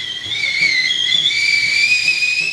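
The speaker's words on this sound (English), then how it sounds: "now soon about to whistle like a tea kettle that sounds like a train" A shrill, steady tea kettle whistle rings loud and sustained, its piercing tones wavering slightly in pitch and sounding alone without any talking.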